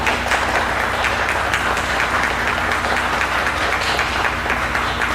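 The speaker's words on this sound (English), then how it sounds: "let's all please give her a warm round of applause" An audience gives a warm round of applause after a talk by Patricia Allen on seasonal harvests and ceremonies, a dense, even wash of clapping that holds steady for several seconds and then cuts off.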